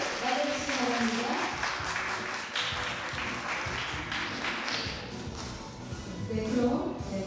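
An audience at a lecture on the future of art and media content applauds to welcome the speakers, a dense wash of clapping that fades and swells again, with some voices mixed in.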